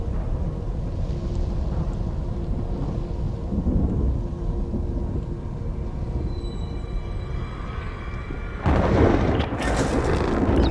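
Heavy timefall rain pours steadily in Death Stranding while low thunder rolls through, with a sharp, louder crash of thunder breaking in near the end.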